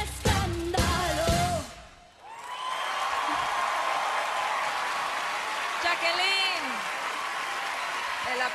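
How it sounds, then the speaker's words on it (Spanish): Audience applause and cheering for a young girl singing on the kids' singing competition show, beginning with the end of the sung music and then a steady wash of clapping with occasional whoops throughout. "el aplauso es para ti"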